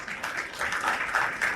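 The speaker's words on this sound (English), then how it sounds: "a round of applause for that" A telehealth conference audience applauds during an afternoon session, and the clapping sounds like a steady, even wash from a large room.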